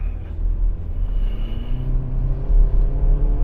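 A 2021 Suzuki Swift 1.2 GLX hatchback with 1,200 cc and 82 horsepower pulls away down a side street, its engine a steady low rumble heard from inside the cabin without talk.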